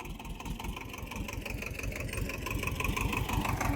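A tractor engine idles steadily while reversing during watermelon loading on a farm, its low, even chugging rumble close and continuous throughout.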